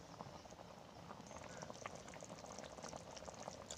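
Matki bhaji curry bubbling at a boil in a pan, a steady close simmer of popping bubbles and soft liquid gurgles, quiet and continuous.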